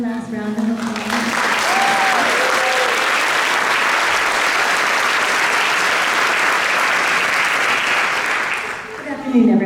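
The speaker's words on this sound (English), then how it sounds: "Can we have one last round of applause?" A scholarship award ceremony audience gives a long, loud round of applause that builds quickly and holds as dense, sustained clapping for about eight seconds, with brief speech at the start and the end.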